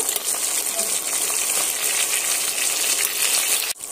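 Rohu fish frying in hot oil in a pan, a loud steady crackling sizzle throughout, with a brief break near the end.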